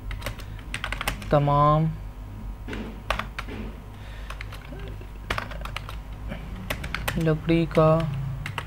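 Keys tapped on a computer keyboard while a Photoshop poster is being made, in quick close irregular bursts of clicks heard beneath a voice talking in Hindi throughout.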